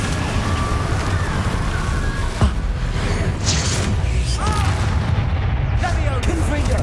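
Booming spell explosions and blasts in the video game Hogwarts Legacy, heavy impacts over a dense, continuous battle rumble with whooshing magical effects, loud and close.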